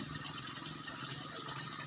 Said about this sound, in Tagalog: tignan mo malinis yan tubig galing sa tangke ito oh